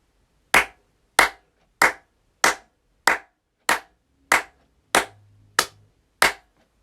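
In a quiet room, one person claps their hands ten times at a steady, even pace. Each clap is loud, close and crisp, with silence between them and no talking.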